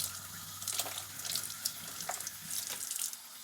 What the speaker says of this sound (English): I'm going to wet my slips under the faucet.